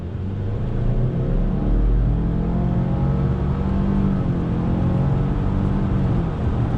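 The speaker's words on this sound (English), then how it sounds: "I'm gonna left foot brake, dead stop with that turbocharged engine on throttle." A turbocharged 2020 Subaru Legacy XT sedan with a CVT pulls away hard from a dead stop, its engine giving a loud, deep, steady rumbling drone heard from inside the cabin.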